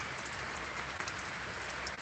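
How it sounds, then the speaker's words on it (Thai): Heavy rain pouring down around a home collection of colourful caladium plants, heard as a faint, dense and unbroken hiss with no voices. "ฝนตกหนักมากเพื่อนๆ"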